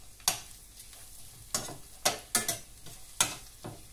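Garlic dropped into hot oil in a pan for a bitter gourd dish, heard as a sizzling hiss punctuated by several crisp spoon scrapes and stirs, close and fairly loud against a steady frying background.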